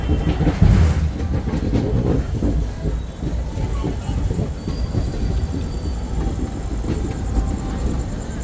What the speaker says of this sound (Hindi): तो वो था हमारी ट्रेन का डिपार्चर